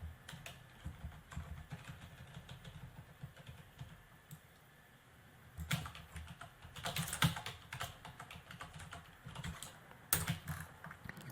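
Fingers tap steadily on a computer keyboard, a dense run of quiet clicks with a brief pause midway and a few sharper, louder keystrokes later on.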